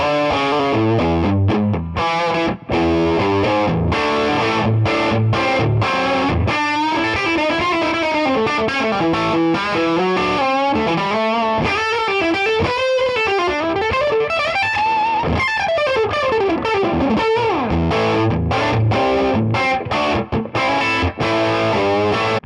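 An electric guitar plays through a Two Rock Bloomfield Drive overdrive pedal with the gain turned up, a loud, continuous distorted stream of chords and single-note bends with short pauses, heard alone without talk.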